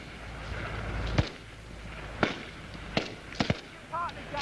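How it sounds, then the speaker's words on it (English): Scattered shots in a World War II video game, four or five sharp reports at irregular intervals over a steady battle background, with a brief whistling tone near the end and no speech. "Get down, start firing."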